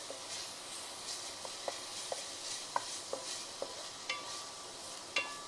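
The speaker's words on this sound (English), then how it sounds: "So we're just going to quickly stir fry this." Vegetables stir-fried in a non-stick pan with little oil make a soft, continuous sizzle broken by light, scattered clicks of a utensil against the pan.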